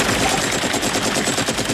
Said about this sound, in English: the Russians from the helicopter shoot up the water in hopes of killing him still